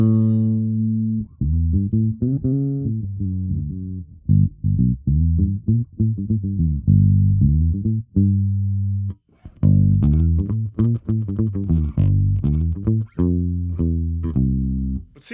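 A Squier Paranormal Rascal HH bass on its bridge pickup, played with a pick: a quick run of firm, clearly separated notes in a steady groove, close and loud with no talking.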